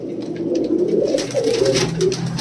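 Punjabi pigeons, a white breed kept for fancy, cooing steadily close by in a dense, overlapping low murmur of soft throaty calls, with faint scratchy background noise throughout.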